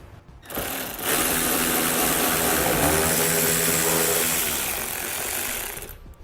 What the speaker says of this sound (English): You're going to want to grab an 8mm socket and pull those bolts out.